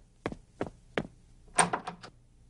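Three evenly spaced knocks on a door, followed by a quick cluster of louder raps, each sharp and close, alone without talk.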